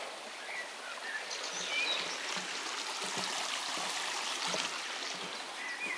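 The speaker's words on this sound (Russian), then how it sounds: "Единственный ручей или река, вытекающая из этого" A small stream flowing out of a lake in spring in southern Estonia, a continuous close babbling trickle with faint birdsong in the background.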